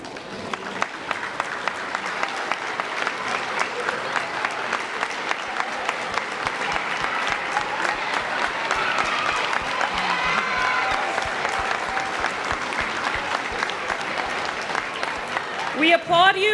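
An audience applauds at a girls varsity basketball game between WHS and CHS, with steady, sustained clapping that fills the whole stretch and swells slightly toward the end.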